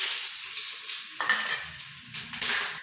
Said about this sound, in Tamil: இப்போ பாருங்கள், தேவையான அளவு ஆயில் ஊற்றியாச்சு. நெக்ஸ்ட்டு பார்த்திங்கன்னா நம்ம எடுத்து வச்சுருந்த பிரியாணி மசாலா போட்டுக்கலாம்.